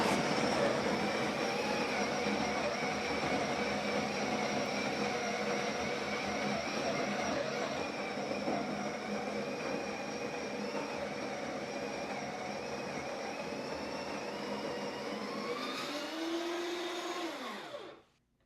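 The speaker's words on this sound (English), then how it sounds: "I like to weigh my portifilter and zero it out before grinding my beans" A Breville Barista Express grinds a dose of coffee beans with a steady, loud, whirring drone that runs unbroken for about seventeen seconds, then winds down and stops.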